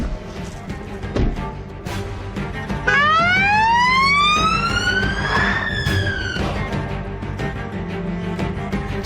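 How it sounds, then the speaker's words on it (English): A British police car siren wails, rising in pitch and sweeping loudly through the middle, over steady background traffic noise. "We have the sirens on and everything."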